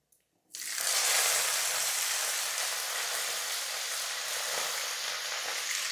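Cauliflower and potato hit hot oil with dried chilli and black cumin, bursting into a loud, steady sizzle after a brief quiet start and frying continuously up close.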